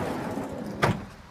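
A long storage drawer slides out of the canopy on a Navara D40 ute, a short, sharp scrape-and-thud near the end of the clip that stands out over a low background rumble.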